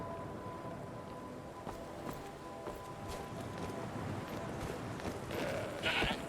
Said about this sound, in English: Oh my god, is that goat going after us?